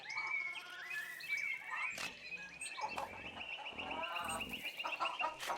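Chickens cluck and chatter in the medieval video game Pentiment, with a steady run of fowl calls and several sharp squawks over a quiet ambient background, no voices.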